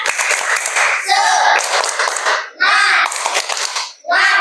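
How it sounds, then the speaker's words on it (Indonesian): An Indonesian primary classroom during an Islamic religious education lesson does a rhythmic spirit clap: patterned bursts of clapping, close and loud, with the children chanting in unison between the claps. "coba tepuk semangat"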